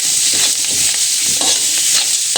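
Fresh curry leaves fry in hot oil for pineapple sambar, giving a loud, continuous close-up sizzle with faint stirring scrapes and no voices.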